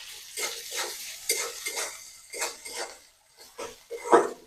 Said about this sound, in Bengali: লবণ দিয়ে কিছুক্ষণ নাড়াচাড়া করে পেঁয়াজটা একটু নরম করে নিব।